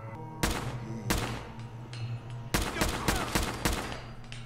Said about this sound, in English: Stop with the rocket launchers